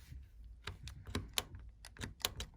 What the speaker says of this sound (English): you're going to use a razor blade and basically just cut the ends.